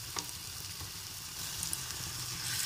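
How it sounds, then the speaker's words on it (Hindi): Aata malpua batter fries in a pan over a low to medium flame, giving a quiet, continuous sizzling hiss with a few soft crackles. "मालपुआ को मैं एकदम लो टू मीडियम फ्लेम पे अच्छे से सेकने देती हूँ"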